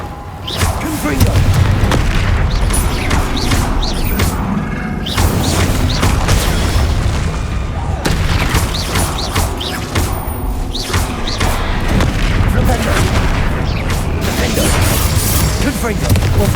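Confringo and Bombarda spell blasts going off in Hogwarts Legacy, loud dense booms and crashing impacts in a continuous barrage of combat, with no talk.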